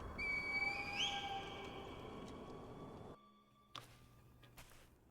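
A reed whistle blown in Sekiro: Shadows Die Twice gives a clear, high whistled tone that slides upward over quiet game ambience. The scene then drops to near silence, broken by a few faint clicks.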